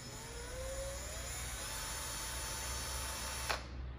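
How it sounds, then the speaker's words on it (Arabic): A Makita DF347DWE 14.4V cordless drill driver runs at variable speed, giving a steady close whine and whir throughout, with a brief louder burst near the end as the trigger shifts. "خلينا بقى نشغل كده مع بعض. الجهاز بتاعنا فيه سرعات متغيره زي ما ذكرنا"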